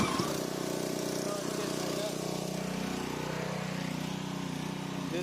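A small engine on a pressure washer used for digging runs steadily with the choke on, a continuous close, loud buzzing drone, with a voice talking over it.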